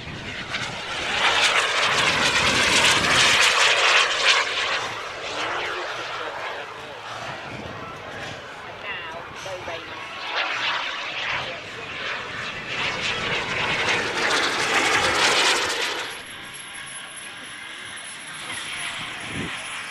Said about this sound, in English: These big jet models coped well with the blustery conditions and strong crosswind.